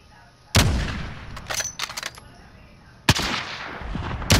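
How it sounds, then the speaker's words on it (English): Loud bursts of gunfire in the video game Call of Duty Warzone, two heavy volleys of shots with scattered rapid reports between them, close and sharp. "I was getting shot from the other direction too"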